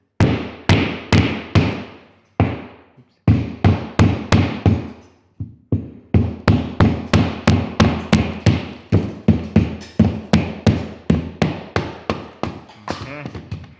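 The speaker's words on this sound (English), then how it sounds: "At this point, I'm just gonna hammer this in" Sharp, loud hammer blows ring out in quick runs while installing an in-ceiling speaker, a few pauses between bursts, then a long steady series of strikes close by.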